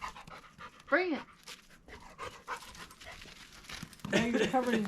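Dog Kira panting in quick, steady breaths close by, with a few whimpery yelps and crinkling noises mixed in.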